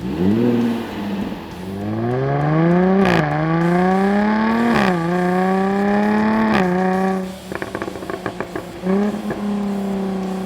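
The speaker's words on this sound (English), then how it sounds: "If there's one company that really gets exhaust noises in sports cars, it's Jaguar" A 2014 Jaguar F-Type sports car exhaust revs loudly and repeatedly, pitch climbing with each rev and dropping back, followed by rapid crackling pops as the engine settles.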